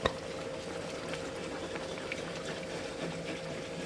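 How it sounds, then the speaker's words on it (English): A steady low bubbling and simmering of a thickening sauce for chicken mac and cheese in a pan, soft and continuous throughout, with no talking. "You can see it bubbling and thickening up."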